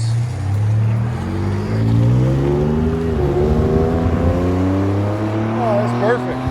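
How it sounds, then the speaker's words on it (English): A Ford F-150 3.5L EcoBoost twin-turbo V6 with a Borla Pro XS muffler drones with a deep, smooth tone, rising and falling as the engine revs up and settles back to idle nearby. "I think I found the muffler for these trucks. They sound really good. Nice deep tone, no raspiness."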